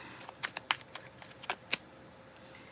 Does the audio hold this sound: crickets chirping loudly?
yes